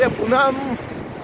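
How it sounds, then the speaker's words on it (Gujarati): Strong full-moon high-tide sea waves surge and wash as a broad rumbling roar with wind buffeting the microphone, while a voice calls out briefly over the start. "આજે ગાંડો ટૂર દરિયાની ભરતી આજે બહુ જોરમાં"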